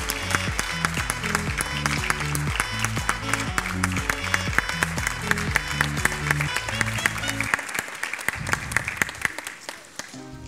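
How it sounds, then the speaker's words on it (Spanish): An audience at a kindergarten graduation ceremony claps steadily and warmly from start to finish, with music playing underneath. "Y nosotros vamos preparando este fuerte aplauso para Francesca Olivia."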